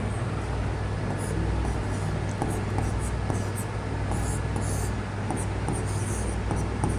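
A pen or marker writing out a Hindi grammar definition during a class, a steady scratchy stroke sound running throughout over a constant low hum and room noise.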